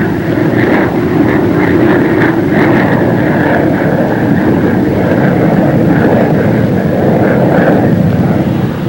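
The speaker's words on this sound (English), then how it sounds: "the pilot puts the plane into a shallow dive in order to bring it home with even greater speed at" Navy Banshee jet fighter diving shallowly toward sea level, a loud steady engine roar filling the whole stretch with a continuous broad rush and faint pulsing tones above it, no voices.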